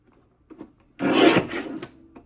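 A paper trimmer slices card stock for card bases in one loud, steady rasping stroke of about a second, with a few faint handling sounds before it and after.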